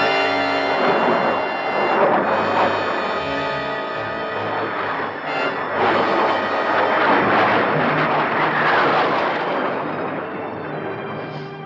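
A test flight aircraft roars low overhead on an approach pass, a loud swelling jet-like rush that builds and fades over several seconds, with rumbling, crackling texture.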